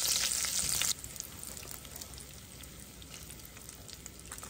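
Collagen pieces frying in a pan while being stirred, a loud hissing sizzle that drops to a softer, steady crackle with faint scraping of stirring, no voices.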